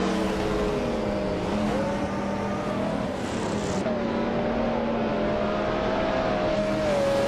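Race cars launch from the start at Lime Rock Park, led by a 1997 McLaren F1 GT on pole, a steady loud engine drone with rising and shifting tones that continues through the whole stretch.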